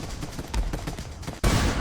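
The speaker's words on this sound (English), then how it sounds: "The officer's orders are overwhelmed by the sound of gunfire" Dense bursts of rapid gunfire crackle and overlap, ending in a sudden loud, sustained roar of shots like a full-scale firefight.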